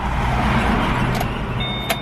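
A car engine idling just after being started with the original key, a steady broadband rumble, close and loud, with a faint high whine and a small click near the end.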